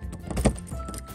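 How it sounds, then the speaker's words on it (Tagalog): Car keys jangle and clink in brief, close bursts while being rummaged for in a garage, with a faint background hum. "hanapin ko pa ang susi"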